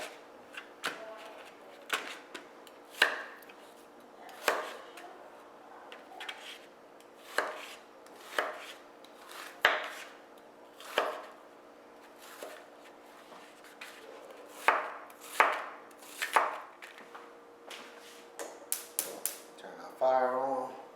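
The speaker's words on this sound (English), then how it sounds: "I'm going to start off by chopping up an onion." A knife chopping an onion on a cutting board in steady, irregular taps, close and fairly quiet, with no talking.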